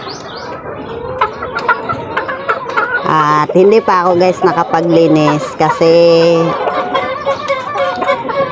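A young gamecock stag clucks and makes short calls close by, while someone talks over it in Tagalog throughout.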